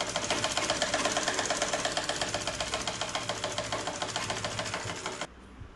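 A sewing machine runs steadily, stitching a blouse seam with a fast, even mechanical chatter that cuts off abruptly near the end, leaving quiet room tone.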